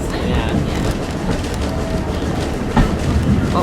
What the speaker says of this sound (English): That's the train, isn't it?